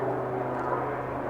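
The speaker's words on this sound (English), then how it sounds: "I'll continue it when this noisy aeroplane, helicopter, it's the Coast Guard, when the helicopter has passed." A Coast Guard helicopter passes overhead as a steady, droning engine hum with a low tonal throb, moderately faint and continuous through the short stretch, with no speech.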